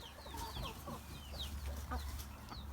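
Chickens and chicks cluck and peep in a coop, several small chirps and soft clucks overlapping at close range over a low rumbling background.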